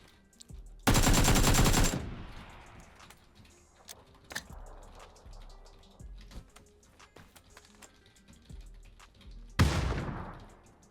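Bursts of automatic gunfire in the PUBG battle royale game, one long loud volley near the start and another near the end, with scattered single shots, clicks and faint distant pops in between.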